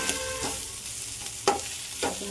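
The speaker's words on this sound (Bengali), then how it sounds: "এবার আমি চিকেনটাকে কষিয়ে নেবো কিছুক্ষণ" Chicken sizzles and fries in a pan, with a few scraping stirs of a spatula at intervals.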